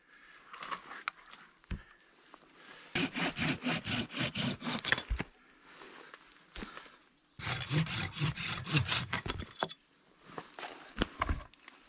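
A hand saw cuts wood at a snowy winter camp in the Pennines in two bursts of quick, rhythmic back-and-forth strokes. Quieter handling and knocks fall in between. The sawing is close and moderately loud, with no talk.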